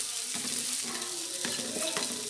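Shallots, curry leaves and dried red chillies frying in oil for a roasted-coconut aavoli fish curry tempering, a steady close sizzle with light stirring taps throughout.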